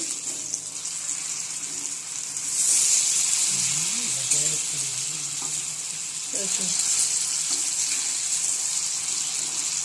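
Lentil fritters (dal bora) fry in hot oil with a steady, fairly loud sizzle that swells in two bursts, while a voice talks softly underneath.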